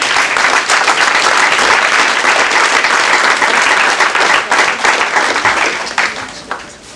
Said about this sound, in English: So if you can give him a round of applause.